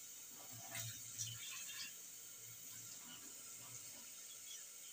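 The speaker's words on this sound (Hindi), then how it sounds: "इसको धो दे रहा हूँ मैं।" Fresh-cut mutton pieces rinsed under a running kitchen tap, a steady soft stream of water with brief splashes and handling sounds over the first two seconds, quiet throughout.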